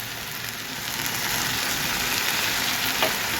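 Thinly sliced potatoes, cut long, sizzling as they fry in hot oil alongside okra, a dense continuous crackle that swells slightly after the first second and holds steady up close.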